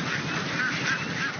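A flock of ducks crossing a road, heard as a continuous noisy wash of quacking and honking from many birds at once, fairly loud, with no voices.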